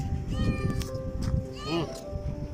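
A kitten meows in quick, high, close calls, one long wavering mew standing out, over a busy background with a person's voice murmuring.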